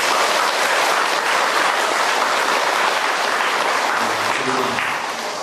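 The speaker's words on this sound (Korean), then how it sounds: "은초 스님 계시진 않지만 박수 한번 쳐주세요" A gathered crowd at a Buddhist temple meeting breaks into loud, sustained applause, a thick continuous roar of clapping that runs on and begins to fade at the very end.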